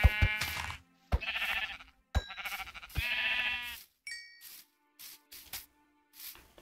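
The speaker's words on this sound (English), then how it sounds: "There's another sheep." Several sheep bleat in a video game in short, separate calls with gaps between them, fairly close and clear against a quiet background.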